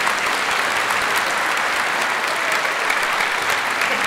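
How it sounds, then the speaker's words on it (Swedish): Audience applause following a choir's performance of Pie Jesu with a soprano solo, a steady dense wash of many hands clapping throughout, close and even in level with no talking. "En applåd för Anja som kunde sola i Pie Jesu"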